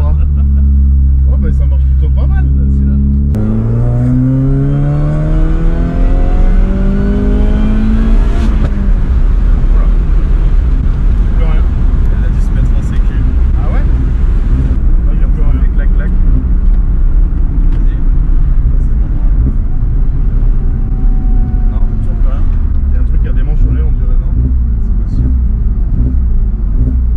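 A racing Mini's engine on a track revs and climbs through the gears while overtaking a BMW, with loud rising and falling engine tones, road rumble and talk over it.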